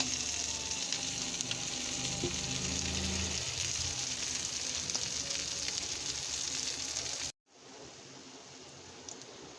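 Koi fish (climbing perch) fries in oil with a loud, continuous sizzle up close. Near the end it cuts out briefly and resumes more quietly.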